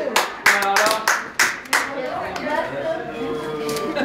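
People at a retirement party clap their hands, a few close, irregular claps at first that settle into a light, continuing round of applause with voices underneath.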